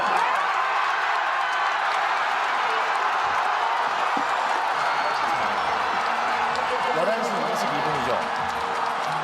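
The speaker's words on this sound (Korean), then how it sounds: "헌법재판소에서 인용 결정이 나오고 즉시 파면되자 시민들이 환호하는 모습을 보여드리고 있습니다." Large crowd of citizens in a public square erupting in sustained cheering and clapping after the presidential impeachment ruling, a steady dense roar with whoops throughout, voices mixed in.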